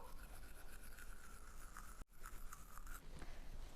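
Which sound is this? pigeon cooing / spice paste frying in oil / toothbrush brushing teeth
toothbrush brushing teeth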